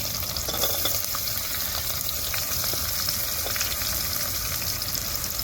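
Chopped onions go into garlic frying in oil, a continuous close sizzle with faint crackles and light stirring, no talk.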